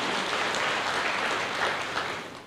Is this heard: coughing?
no